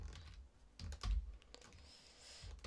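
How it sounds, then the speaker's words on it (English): Quiet, close typing on a German computer keyboard, a burst of clustered keystrokes with a few louder taps near the middle, no voices. "German keyboard, you're doing my head in."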